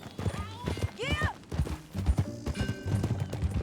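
Horse hooves clip-clop in Red Dead Redemption 2 gameplay, a quick rhythmic patter with a brief whinny, heard under overlapping in-game dialogue.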